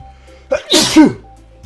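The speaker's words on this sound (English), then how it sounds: "I felt that sneeze coming." A single loud, close sneeze bursts out after a brief sharp intake of breath, then fades to quiet.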